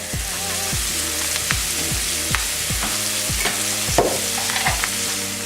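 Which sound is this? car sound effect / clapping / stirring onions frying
stirring onions frying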